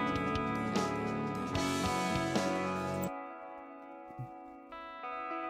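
An electric guitar with a Fender clean tone, run through only delay and reverb, rings out in chords and notes with echoing tails, then thins to softer sustained notes and a few quiet plucks.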